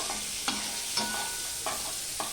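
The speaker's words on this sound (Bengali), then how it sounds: "দেখো ব্রোকলিগুলো ভাজা হয়ে গেছে ভাজার একটু গন্ধ বেরিয়েছে কি না বেরিয়েছে তখনই আমি এগুলো তুলে নিচ্ছি" Broccoli frying in a pan for a vegetarian dish, with a steady sizzle and several sharp scrapes and clinks as it is stirred at a slow, irregular rhythm, heard close with no talking.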